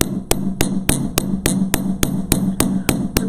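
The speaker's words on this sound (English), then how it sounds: "Let the hammer just fall on the metal." A hammer taps metal jewelry on a steel bench block in a steady run of about a dozen light, ringing blows, evenly spaced, close and clear with no voices.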